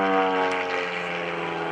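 Extreme Decathlon aerobatic propeller airplane performing at an airshow, its engine and propeller droning steadily and loudly with a strong harmonic buzz and no talk.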